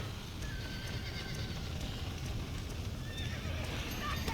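Horses in the video game Red Dead Redemption, steady clip-clop of hooves with whinnies and neighs over a dense continuous game background, moderately quiet throughout.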